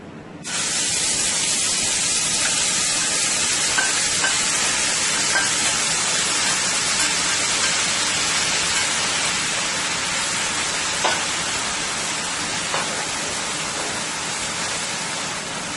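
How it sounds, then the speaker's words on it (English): Guyanese chicken curry ingredients frying in hot oil, a steady, bright sizzle and hiss that holds evenly throughout with a few faint pops, close and fairly loud, with no talking. "you're going to let this fry in the oil guys for about 5 to 6 minutes"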